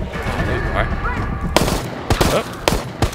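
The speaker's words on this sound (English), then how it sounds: "I would like to use my new pistol" Pistol fire in the online horror shooter Resident Evil Resistance, several sharp shots spaced apart in the second half, over in-game ambient sound and background voices.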